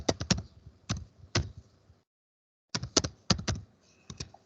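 Fingers type on a computer keyboard at a Windows Server login screen, entering user details in quick bursts of close, crisp key clicks, with a pause of silence before a second run of keystrokes.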